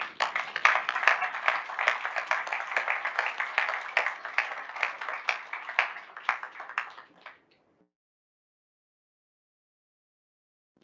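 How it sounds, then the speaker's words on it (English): Audience applause at a naval air weapons station talk by a NASA astronaut, a dense, steady clapping from a crowd for about seven seconds that stops abruptly, leaving silence. "Please give yourself a round of applause."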